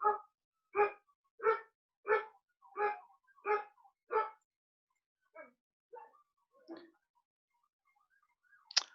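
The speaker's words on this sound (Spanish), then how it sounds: "creo que el perro es mío" A dog barks seven times in an even, steady series at moderate distance, then gives a few quieter, softer yips and whines before falling silent.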